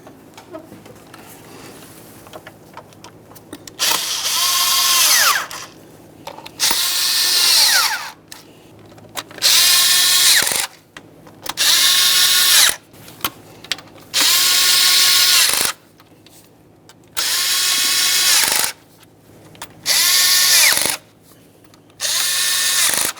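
Power tool snugging fuel injector bolts on a 2006-2012 Ford Fusion 3.0L V6, eight loud bursts of whirring and ratcheting, each lasting a second or two, separated by short quiet gaps.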